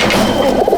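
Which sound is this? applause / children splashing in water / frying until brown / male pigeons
male pigeons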